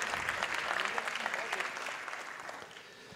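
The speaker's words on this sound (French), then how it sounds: "On vous applaudit bien fort" Applause at a Cit'ergie label award ceremony, many hands clapping steadily at moderate distance and slowly fading toward the end.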